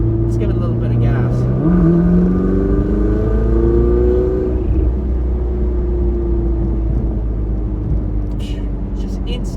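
A Ferrari 488 engine revs up under the throttle, climbing in pitch over a deep, continuous motor drone before settling back, loud and close, while someone talks over it.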